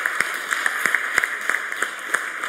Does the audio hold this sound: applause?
yes